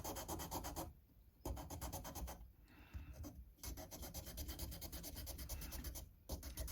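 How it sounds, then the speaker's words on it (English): Rhythmic back-and-forth rasping of a 9.5 inch radius sanding block on a Fender Stratocaster fretboard, close and continuous with a few brief pauses between strokes. "I'm just going to do a little bit more sanding"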